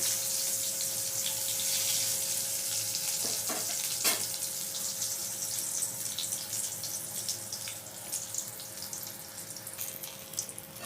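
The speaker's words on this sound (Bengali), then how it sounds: "লাল লাল করে বেগুনগুলো ভেজে নেব এক দিক ভাজা হয়ে গেছে এবার উল্টো দিকে আর এক দিক ভাজা করে নেব" Eggplant slices frying in hot oil, being turned to brown the other side for a pabda fish curry. The sizzle is constant and close, with a few sharp clicks and no talking.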